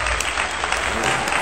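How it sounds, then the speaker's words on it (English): A short burst of dense, steady applause from a small group of people, filling the whole moment with continuous clapping at close range. "Let's give a round of applause for Buzz"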